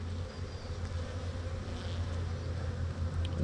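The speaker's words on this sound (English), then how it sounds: "There's a lot of bees on here." Honeybees buzz around an open hive frame in a beeyard, a dense, continuous close-up drone with a steady low hum and no talking.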